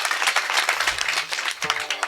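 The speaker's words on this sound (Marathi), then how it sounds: "एकदा जोरदार टाळी वाजूया श्री महाराजांना." An audience at a kirtan gives a burst of applause, steady overlapping clapping at moderate volume throughout.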